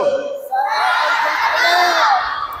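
A scout group shouts a slogan together, a loud, close burst of many voices that rises sharply and holds as one sustained yell before tailing off.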